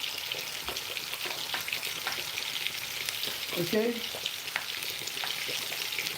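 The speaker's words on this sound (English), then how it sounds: "is just caramelizing this onion nicely. The juices from that steak, the olive oil, the butter is releasing itself slowly in that steak" Onion and steak frying in olive oil and butter, a steady dense sizzle with crackling pops throughout, close and fairly loud, with a brief spoken word near the middle.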